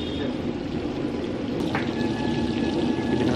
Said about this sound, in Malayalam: ഇങ്ങനെ നെയ്യ് ഒഴിക്കും